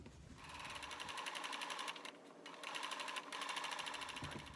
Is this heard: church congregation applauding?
no